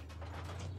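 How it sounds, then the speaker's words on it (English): Mechanical ratcheting and clanking of an armor-piercing shell being loaded into the gun breech of a tank in the Armored Warfare video game, a brief steady mechanism sound over a low engine hum. "I'll load AP to better penetrate these well-armored vehicles."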